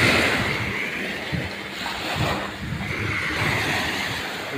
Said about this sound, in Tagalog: namasyal lang tayo dito sa tabi ng dagat sa buhanginan